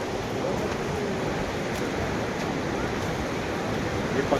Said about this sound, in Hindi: ये पत्थरों से फिसलता हुआ पानी भी आ रहा है यहाँ पर।